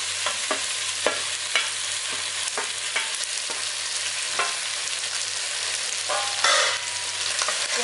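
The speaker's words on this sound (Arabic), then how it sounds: "بعد ما خليت الكوارع بتاعتي حطيت نقطة زيت واحدة بس، هنزل بقى بالكوارع" Cow trotters sizzle steadily in a pan with a single drop of oil, a dense, even hiss broken by occasional louder crackles and stirring scrapes.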